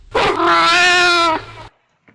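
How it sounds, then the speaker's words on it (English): A loud, sustained tonal chime with a bright buzzy edge, a kill sound effect in Roblox, rings for over a second, then cuts off, followed by a brief faint tick. "Can you hear the kill sound? You hear a kill sound?"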